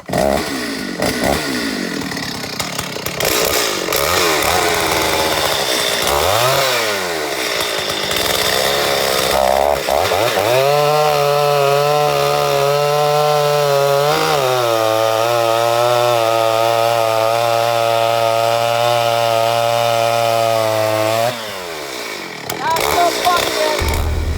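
A Stihl 084 chainsaw with a 10x3/8 rim sprocket cuts into a rotted, punky trunk. The loud engine revs up and down, then holds a sustained high-pitched scream under load before dropping back.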